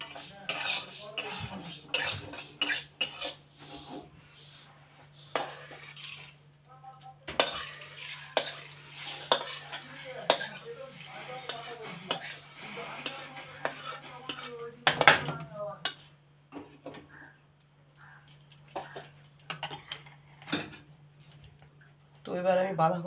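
Lentils being dry-roasted in a pan are stirred with a metal spatula, with irregular scraping clinks and clatters against the cookware over a faint hum, a voice speaking now and then between the strokes.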